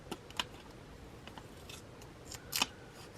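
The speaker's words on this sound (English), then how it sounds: "Should have bought my big scissors, but it's fine." Scissors snipping paper during a planner setup at a desk, a few quick close cuts heard alone in a quiet room.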